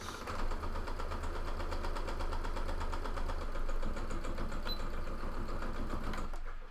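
A sewing machine runs steadily, back-stitching fabric for a face mask with a continuous rapid mechanical whir and tick close by, then stops abruptly near the end.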